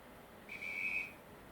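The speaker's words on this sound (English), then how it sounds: "16 guards whistle." A single short, shrill guard's whistle blast sounds from a model train sound decoder installed in a TT:120 Class 50 locomotive, clear against quiet background hiss.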